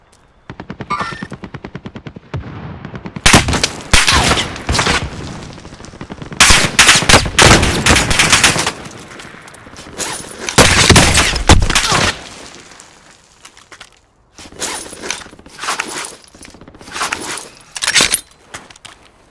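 Machine gun fire in the video game Warzone, long loud automatic bursts in several waves with pauses between them, mixed with metallic clatter and impacts.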